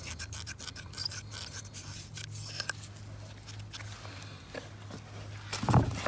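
Scrubbing strokes clean a grimy Dodge Caravan throttle body, making quick, close rasping brushes that repeat in short irregular bursts over a steady low hum.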